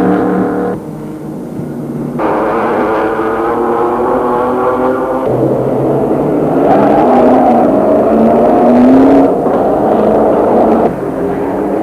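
Austin 7 racing car from 1936 climbing the Shelsley Walsh hill, a steep 1,000-yard course, with a sustained engine drone that rises in pitch as it accelerates, continuous and fairly loud with no talk.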